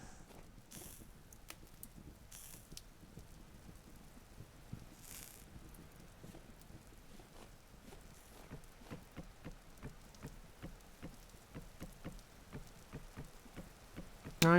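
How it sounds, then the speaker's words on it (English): Rain falling in the Vintage Story game, an even patter of drops on surfaces throughout, with sharp irregular ticks and a faint crackle of fire underneath. "Rain!"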